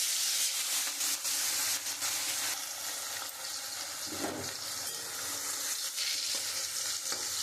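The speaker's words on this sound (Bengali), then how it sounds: "মাছটা একটু লাল লাল করে ভেজে নেবো" Rohu fish pieces coated in salt and turmeric fry in hot oil in a kadai, making a loud, continuous, close-up sizzle with occasional stirring and no talk.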